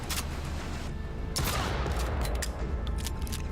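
Gunfire in a video game demo: a series of sharp shots and bursts crackle over a constant rumbling background, with a louder volley near the middle and scattered pops after it.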